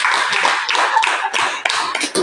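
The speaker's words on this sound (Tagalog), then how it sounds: "Palakpak ng Panginoon." A church congregation at a pastors conference breaks into applause, a dense, loud patter of many hands clapping steadily for a couple of seconds with small swells.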